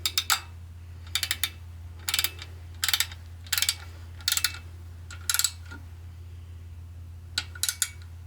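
A torque wrench ratchets on a bolt in the bottom end of a Ford 4000 engine during oil pump and balancer installation: about eight short bursts of crisp metallic clicks, close and fairly loud, over a steady low hum.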